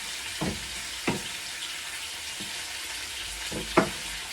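Prawns fry in a pan for Nigerian fried rice, a constant bright sizzle with a few separate knocks and scrapes from stirring, close and steady, no voices.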